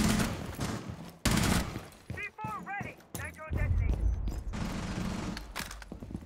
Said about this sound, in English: C4 ready. Nitro detonated.